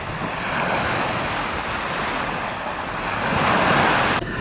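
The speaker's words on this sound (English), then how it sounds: "Can you hear the waves coming in?" Lake Michigan waves rush in with a broad, continuous surf roar, steady and fairly loud, with wind buffeting the microphone and no voices.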